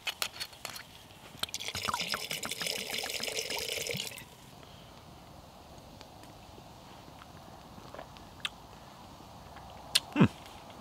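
Red wine poured into a stew pot over a campfire, a steady liquid splash running for about three seconds amid clinks and faint outdoor background.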